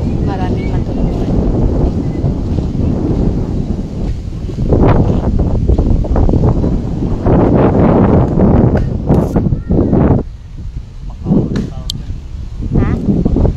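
Strong outdoor wind buffets the microphone in loud, roaring gusts that rise and fall throughout, with people talking over it.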